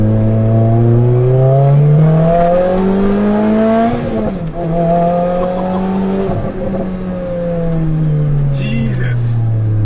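The Lotus Exige S sports car's engine revs hard through rising and falling gear pulls, loud and close, with a rasping exhaust note and a brief chatter of voices near the end.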